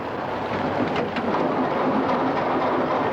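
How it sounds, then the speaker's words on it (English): Heavy rain pouring outside a car at night, a loud, dense, continuous hiss of downpour with a low rumbling undertone, steady throughout and with no voices. "It's raining like hell outside."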